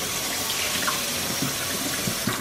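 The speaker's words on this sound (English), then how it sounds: "Wash my hands real quick." A kitchen tap runs steadily while hands are washed, with a constant close splash and a few soft rubbing sounds.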